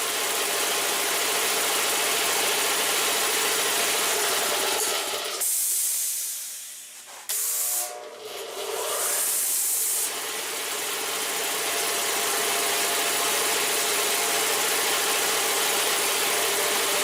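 Quincy 325 air compressor motor on soft start control, a loud steady hissing run that dips and briefly cuts out before ramping back up to full constant noise.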